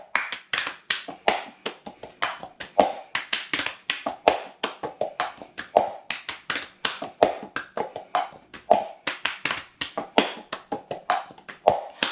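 Cup song rhythm played alone on a plastic cup, a steady looping pattern of sharp hand claps and cup taps on a table, crisp, close and evenly repeated, with no voices.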